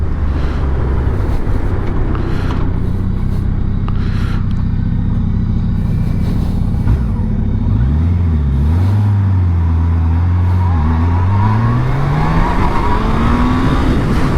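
A Yamaha FJR1300 motorcycle accelerating hard, its engine note rising steeply, dipping at gear changes and climbing again, loud and close over steady wind rush, with no talking.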